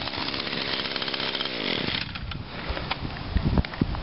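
An Echo SRM string trimmer runs close by during autumn lawn work, a buzzing two-stroke whine that winds down partway through, followed by scattered knocks and rustles.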